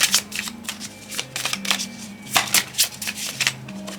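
Tarot advice cards being shuffled by hand, a continuous crisp riffling and flapping with rapid bursts of papery clicks, close and fairly loud, no talking.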